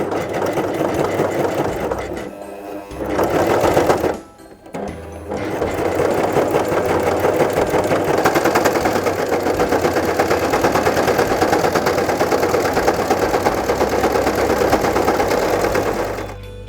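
A Brother CV3550 coverstitch machine stitches fabric with a loud, fast, steady mechanical whirr, close up, briefly pausing twice early on before running continuously to the end.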